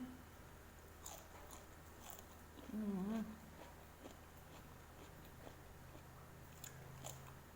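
Soft, close crunching bites and chewing repeat irregularly against a quiet background, with a brief muffled hum or murmur midway.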